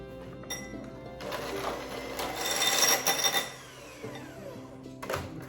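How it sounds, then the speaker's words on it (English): A handheld electric mixer runs while chicken and vegetables are being prepared, a steady buzzing mechanical whir with rattling surges that build and ease off. "I'm using my handheld mixer."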